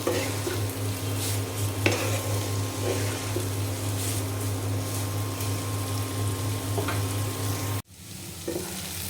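Carrots and potatoes fry in a pan with a continuous loud sizzle and a steady hum, while a utensil stirs and scrapes through them. The frying cuts off abruptly near the end, leaving quieter background sounds.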